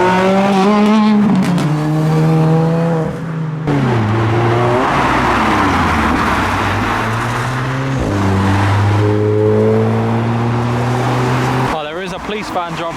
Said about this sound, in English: Turboed Mark 1 MX-5. He got sideways.